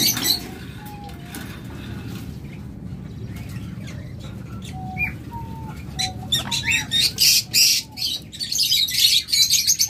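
A caged pair of conure parrots chirps and squeaks softly at first, then turns to rapid, loud, piercing calls that crowd together toward the end.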